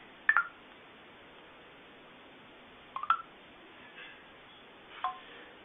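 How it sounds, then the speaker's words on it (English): Short electronic tones from a phone placing a call after a voice command, three faint, brief bursts spaced a couple of seconds apart over a low hiss. "Call Jack Black"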